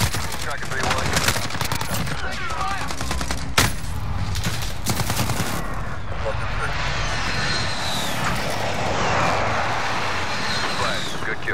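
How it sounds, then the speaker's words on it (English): A UAV aircraft flying over in the Modern Warfare shooter game, a broad droning roar swelling toward the end beneath bursts of gunfire and voices over a dense battle din. "Send that flyover. UAV entering the AO."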